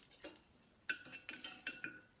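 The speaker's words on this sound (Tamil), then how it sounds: "நல்லா கிளறி விட்டுக்கோங்க." Whole spices (bay leaf, mace, cinnamon, star anise, cardamom and cloves) are stirred in a hot oiled pan for tempering, giving light metallic clinks and scrapes of a spoon against the pan in quick, irregular bursts.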